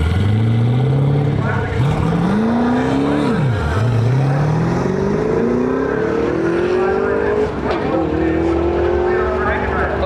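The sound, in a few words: 4th gen Camaro launching down drag strip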